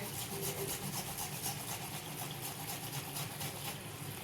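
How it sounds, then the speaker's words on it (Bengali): Steady close scraping of a ginger piece being grated by hand into a cooking pot, a continuous rough rasping texture with no pauses over several seconds. "এতে এই আদার টুকরোটা আমি ঘষে এতে দিয়ে দেবো"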